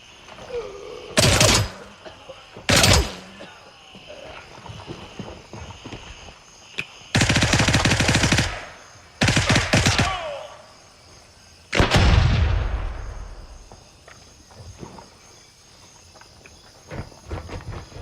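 Bursts of gunfire in a PvP video game, several loud volleys spaced a second or two apart, the longest lasting about two seconds, over a quiet background with a faint insect-like hum.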